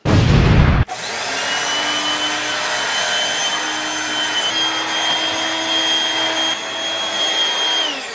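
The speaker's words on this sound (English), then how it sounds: "Then we got a vacuum now." A vacuum cleaner roars steadily in a home office after a loud burst at the start, a loud continuous whine with a sustained high tone and no talking over it.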